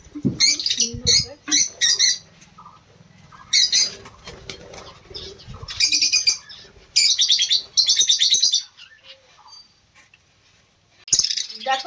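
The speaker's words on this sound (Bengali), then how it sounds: "দেখো বদ্রি পাখিগুলো কেমন ভয় পাচ্ছিল না, আর লাল পাখিগুলো কেমন ভয় পাচ্ছে" Pet budgerigars and red birds chirp in loud, repeated bursts of high twittering, with wing flapping in between and brief quiet pauses.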